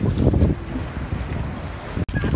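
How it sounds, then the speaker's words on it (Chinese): Strong wind blusters across a beach at low tide, buffeting the microphone in loud, rough gusts, with faint voices briefly underneath. "大风扫啊"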